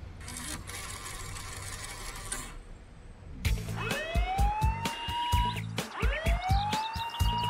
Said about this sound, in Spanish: Será mejor llamar a los coches de patrulla.